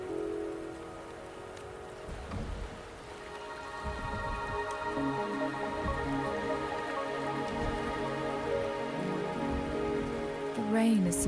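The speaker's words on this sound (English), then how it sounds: "The rain is subsiding" Rain falls steadily in Wuthering Waves, a continuous wash of drops spattering on surfaces, mixed with ambient tones and soft low thuds, fairly close and without speech.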